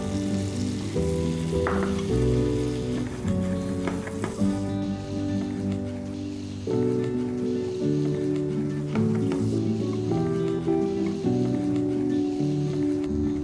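Steak frying in a pan, a steady close sizzle running under louder tonal background music with no pauses.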